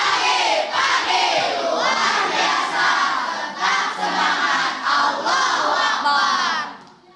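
Junior high school students at SMPN 2 Banjaran shout a rhythmic group yel-yel chant on the first day of school, loud massed young voices in pulsing phrases that stop abruptly near the end.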